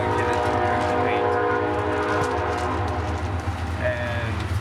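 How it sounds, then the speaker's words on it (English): A train rumbles past close by with a loud, steady roar and grinding, metallic tones sustained throughout. "The train will entertain you while I'm doing that."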